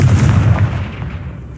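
Confringo explosive spell going off in a Harry Potter video game, a single loud booming blast with a low rumble that decays quickly.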